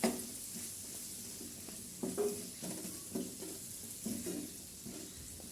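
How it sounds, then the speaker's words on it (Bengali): Potatoes and flat beans cook in a pan with sliced green chili, turmeric and salt. A soft, quiet sizzle runs underneath as a spoon scrapes and stirs at intervals. "তারপরে ভালো করে নাড়াচাড়া করে নেব"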